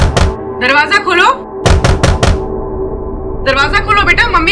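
Firm knocks on a house door, a few hard raps between stretches of a woman calling through it, loud and close alongside her voice.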